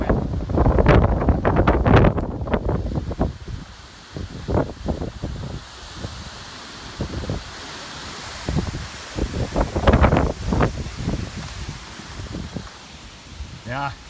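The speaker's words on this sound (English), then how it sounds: "Get out of this wind." Strong wind gusting across open farmland where calf hutches stand, a loud steady rush buffeting the microphone throughout, with someone talking over it in bursts.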